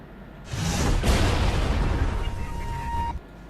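Counter-Strike gunfire comes as a loud, continuous stretch of shooting and blast noise lasting about two and a half seconds, then cuts off abruptly into quiet.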